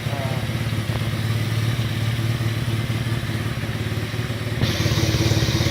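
A Baja 90cc minibike running steadily after a motor swap, its small single-cylinder engine putting out a continuous close, buzzing drone at idle with a slight shift in tone near the end.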